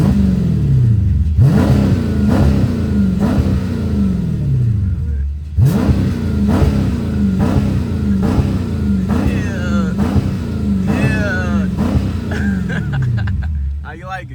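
A Dodge Charger Scat Pack engine revs repeatedly, rising and falling in loud surges with a deep exhaust rumble throughout. Voices and shouts come in faintly over the later revs.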